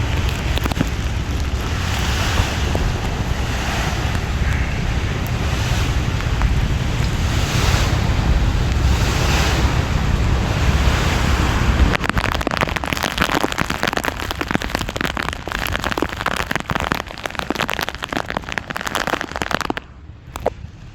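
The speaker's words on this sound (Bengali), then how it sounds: "অনেক বাতাস বইতেছে, আসলে দাঁড়ানোই সম্ভব হচ্ছে না, আর এত পরিমাণ বৃষ্টি" Strong wind buffets the microphone with a loud, rushing roar while heavy rain pours down on a passenger launch on the Meghna River in a storm, gusting continuously and turning harsher and choppier partway through.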